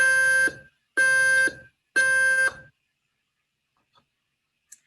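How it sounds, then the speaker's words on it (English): A smoke alarm sounds a T3 temporal pattern: three loud, long electronic beeps in an even pattern, each about half a second, followed by silence with a couple of faint clicks. "It's going to use your regular smoke alarm, a T3 signal."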